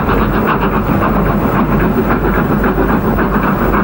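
A passenger train runs steadily along the rails, with a loud, continuous rumble and a faint rhythmic clatter of wheels and carriages, heard up close from inside or beside the train, with no talking.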